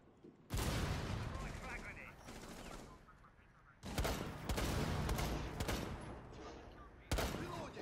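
Sniper fire in a shooting video game: three loud, sharp blasts spaced a few seconds apart, each trailing off into a rumbling, echoing tail, with the game's background noise filling the gaps.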